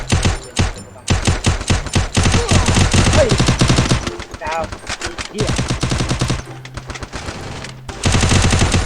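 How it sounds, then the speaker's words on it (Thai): Rapid automatic gunfire in a 4v4 ranked shooter video game, loud dense bursts with short pauses, under a voice talking. "เรายิงตัวบนหลังคาไปครับผม"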